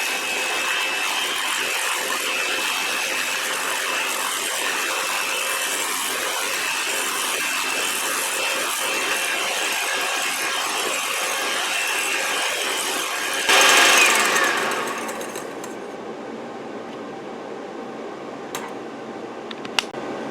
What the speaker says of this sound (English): with my mixer and the whisk attachment, we're just going to beat this until we form soft peaks